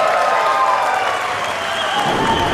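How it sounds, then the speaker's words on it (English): A crowd applauds steadily at the 2007 Racquetball US Open match between Williams and Mannino, a dense, continuous wash of clapping filling the hall for the whole stretch. "the crowd shows appreciation to that as well"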